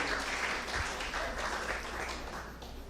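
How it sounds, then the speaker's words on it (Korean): A church congregation at an evening worship service claps together, a dense, fairly quiet wash of applause filling the room evenly from start to finish. "박수해 주세요"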